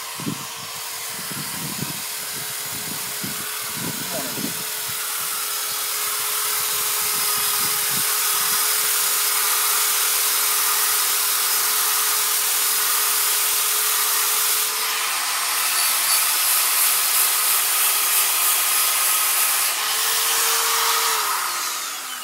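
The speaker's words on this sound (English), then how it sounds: "it's a nylon abrasive wheel on just a regular drill. And all I do is lock it on, hold it here" A regular electric drill fitted with a nylon abrasive wheel polishes the lower fork tube of a Yamaha XT200 motorcycle, giving a steady close whine that holds on throughout, with its pitch dipping briefly near the end and no talk.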